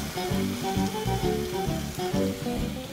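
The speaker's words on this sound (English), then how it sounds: "add your cream. And it's going to bubble." Cream bubbling and sizzling in a pan of beef stroganoff, a steady close hiss with dense popping bubbles and soft rhythmic stirring pulses, no voices.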